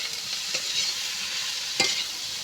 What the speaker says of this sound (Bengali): ভালো করে নেড়ে চেড়ে ভালো করে আমি আলুটা ভেজে নেব